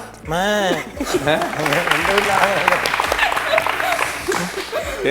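A man imitates a goat's bleat, giving a loud, quavering call at the start that gives way to sustained audience applause and laughter.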